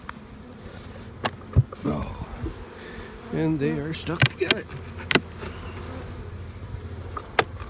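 Honey bees hum around an opened backyard hive while someone talks, with sharp knocks and clicks from wooden frames and boxes being handled.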